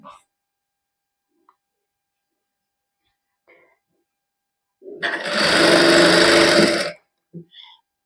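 A sewing machine stitches lace onto a lined suit: after near silence and faint handling sounds, a single steady burst of rapid mechanical whirring lasts about two seconds, loud and close, then a few soft clicks.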